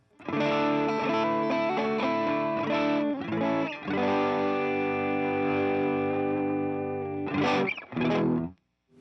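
Heavily distorted electric guitar, a 1960 Fender Custom Shop Stratocaster on its middle pickup, plays sustained chords and riffs with a slight chorus shimmer, loud and continuous, pausing briefly before a final few struck chords.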